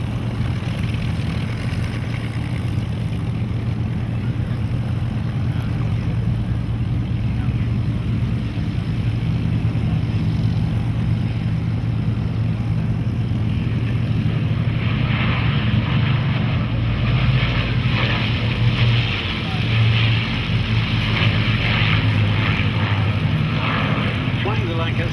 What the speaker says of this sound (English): you will still see the formidable underside of the Lancaster on this pass